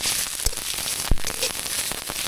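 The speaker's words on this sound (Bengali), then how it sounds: "এবার পেঁয়াজটা একটু লাল লাল করে ভেজে নেবে।" Sliced onions fry in hot oil in a pan during home cooking of an egg dish, a steady close sizzle with scattered sharp pops and crackles throughout.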